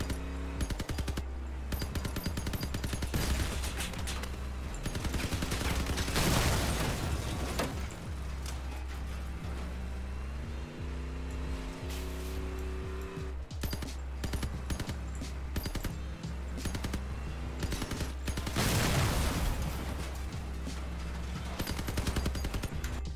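The M-39 Imp machine gun in the vehicle combat game Crossout fires long rapid bursts, loud and close, with short pauses between volleys and no talk.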